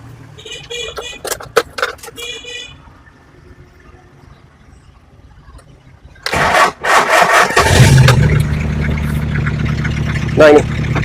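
A car with a power steering pump being repaired cranks and its engine catches after some clicks and talk, then settles into a loud, steady idle close by.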